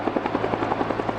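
A Cobra attack helicopter during a military exercise, heard as a steady, loud rotor thumping in a fast regular rhythm over a constant engine drone.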